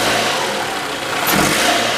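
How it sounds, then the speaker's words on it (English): A 2013 Toyota RAV4 AWD with a 2.5L engine and worn engine mounts revs in drive with the brake held. A loud, steady engine drone swells briefly partway through, close by, with no talking. "Mike, you want to stick it in drive? Then have your foot on the brake and give it some gas for me."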